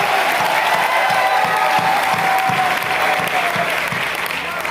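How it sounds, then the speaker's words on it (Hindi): Loud, sustained applause from a large audience at a poetry recital during the Mishrikh fair festival, a dense continuous wash of clapping with crowd noise that holds steady throughout. "एक बार जोरदार तालियां बजाइए"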